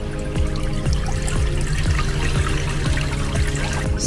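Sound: water draining from twin tub washing machine

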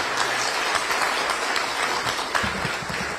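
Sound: applause for Adam in the Sejm

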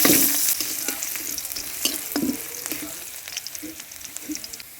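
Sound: frying dried chillies, cumin, bay leaves, onion and garlic in oil

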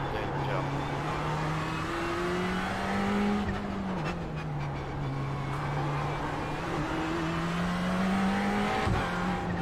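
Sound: Ferrari 488 GT3 Cup race car engine in iRacing game

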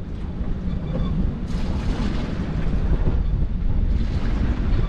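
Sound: strong wind at sea on a sailboat

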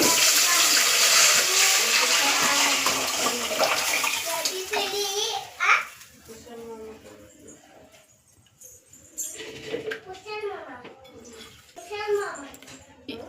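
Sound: water poured into pot

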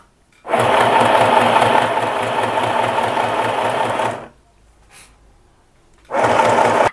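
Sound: sewing machine stitching straight seam on tricoline fabric

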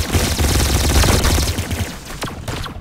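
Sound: laser gun firing in the video game Arsenal

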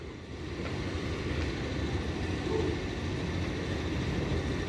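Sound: MTR train arriving at station

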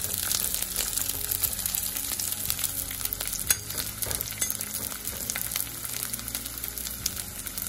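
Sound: frying cauliflower and carrot until golden brown

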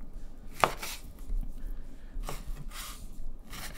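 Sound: knife cutting kabob meat into cubes

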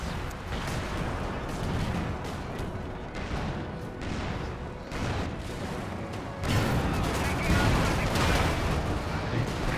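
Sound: rapid gunfire in Company of Heroes 2 video game

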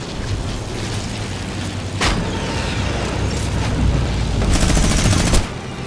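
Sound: gunfire in the video game Fortnite

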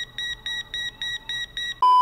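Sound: beeping in the video game Border Officer

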